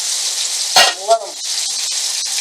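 Potatoes dropped into a hot pan on high heat hiss and sizzle steadily, with a sharp burst of spattering as they hit the oil, then a continuous frying crackle.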